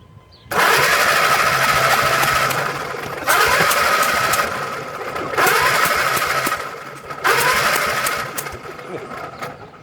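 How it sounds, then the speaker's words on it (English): A 1937 Willys flathead engine, long neglected, cranks on its starter in three or four sustained loud bursts of steady churning, each lasting a few seconds with brief pauses between, close by. "I decided to stick my thumb over the spark plug hole and hit the starter"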